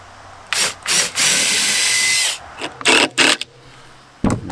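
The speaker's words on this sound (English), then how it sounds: "I'm going to pre-drill this." A power drill pre-drilling wood for a hay feeder whines in several bursts: short starts, one long sustained run, then a few quick stuttering pulses, loud and close with quiet gaps between.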